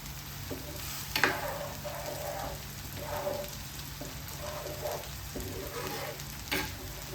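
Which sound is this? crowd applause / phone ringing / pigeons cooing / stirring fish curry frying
stirring fish curry frying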